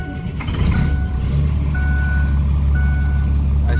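A Caterpillar diesel engine swapped into a truck in place of a 6.0 Powerstroke runs with a loud, steady low rumble close by, while faint intermittent tonal beeps sound over it.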